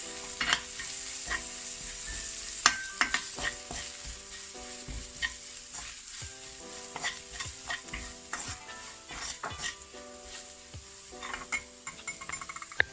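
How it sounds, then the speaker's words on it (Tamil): Onions sautéing with chili powder in a pan give a soft continuous sizzle, broken by frequent scraping and stirring taps of a utensil against the pan. "இப்போ வதங்கிட்டு நான் மிளகாய்த்தூள் சேர்த்துருக்கிறேன்."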